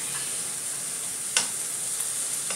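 Onions, turkey and mushrooms frying in a pan for stroganoff, giving a steady close sizzle with a brief clatter of stirring near the middle.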